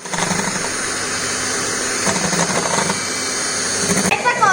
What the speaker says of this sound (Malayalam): ഇനി നമുക്ക് ഇതൊന്നുകൂടെ ഒന്ന് ബീറ്റ് ചെയ്ത് കൊടുക്കാം.